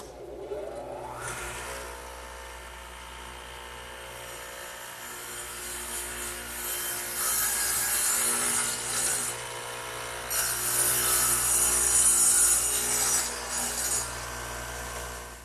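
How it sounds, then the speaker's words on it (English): A radial arm saw fitted with a dado head of two angled blades plows through wood for a trestle table, a sustained loud whine and grinding cut that swells in the second half, with no talking. "the radial arm is set up with a dado head, which is just 2 blades at an angle to one another, so they plow out material"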